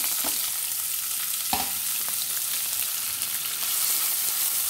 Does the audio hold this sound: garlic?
yes